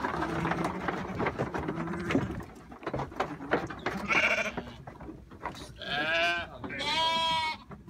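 Sheep and lambs at a Newfoundland summer pasture bleat several times, the wavering calls growing louder and nearer toward the end over soft outdoor background noise.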